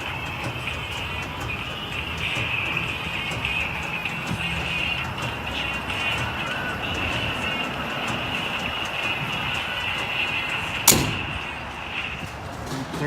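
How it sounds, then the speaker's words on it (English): Gas pump refueling a RAM 1500 5.7 HEMI pickup at a station: a steady mechanical whir and hum of fuel flowing, with a high whine throughout and a sharp click near the end. "we're at the pump here, pumping the gas up"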